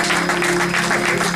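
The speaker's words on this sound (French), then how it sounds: "Est-ce qu'on peut acclamer très fort pour la gloire?" A church congregation claps and cheers in a steady, dense wash of applause, close and loud, with an organ or keyboard chord held underneath.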